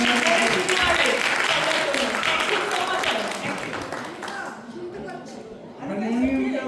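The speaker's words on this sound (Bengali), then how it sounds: "তবলার জন্য হাততালি হোক একটা" An audience claps for a tabla player at a Bengali poetry and song recital, a dense burst of applause that thins out and fades, with voices rising over it near the end.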